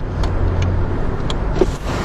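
Inline five-cylinder diesel car engine running steadily, a continuous low rumble heard from close by with faint clicks and rattles over it.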